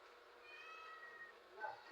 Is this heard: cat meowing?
yes